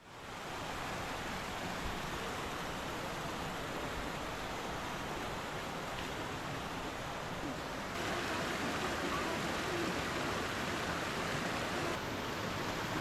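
Waterfall in Tirthan Valley, Himachal, roaring as a dense, unbroken rush of falling water that stays loud and steady throughout, with no voices over it.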